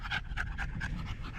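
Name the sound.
dog panting on a hike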